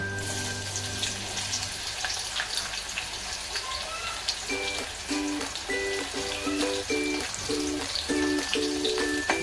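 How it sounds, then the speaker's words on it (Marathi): Onion sautéing in a pan for chicken masala, a close, steady sizzle with bursts of crackle, while a rhythmic repeating tonal beep-like pattern runs through the latter half. "कांदा चांगला परतून घेणार आहोत"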